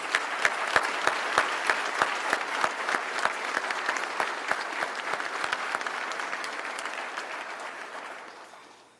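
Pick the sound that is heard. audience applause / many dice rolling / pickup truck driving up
audience applause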